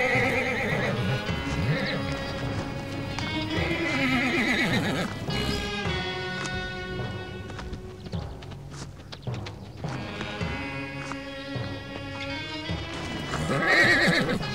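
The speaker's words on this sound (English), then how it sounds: "It's been a while since the call of a stallion has been heard on this bit of the forest." A stallion neighs loudly in a forest while grey forest mares and ponies approach, their hooves clip-clopping underneath; the whinnies come in repeated, strongly pitched calls over a continuous busy background.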